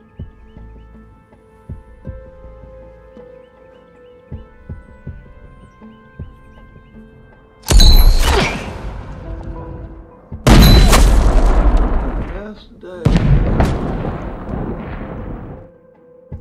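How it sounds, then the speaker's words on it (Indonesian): Gunshots ring out during shooting practice in a yard in an action film: three loud, heavy blasts, each with a long rumbling decay, follow a quieter stretch and are spaced a few seconds apart. "Chris mencoba untuk melatih kemampuan menembaknya di pekarangan rumah keluarga Rice"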